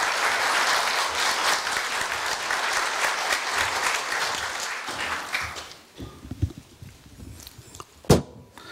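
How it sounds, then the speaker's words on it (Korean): A crowd at a university staff retirement ceremony applauds warmly in a sustained, dense burst that fades out after about six seconds, followed by scattered footsteps, shuffling and a sharp knock in a quiet room. "큰 박수로 맞아주시기 바랍니다"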